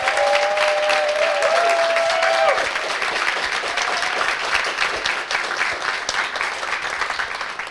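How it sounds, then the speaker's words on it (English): An outdoor crowd at a book reading at The Strand Book Store gives a sustained round of applause for the author, loud, dense clapping with a voice briefly audible at the start. "let's give another round of applause for Julissa"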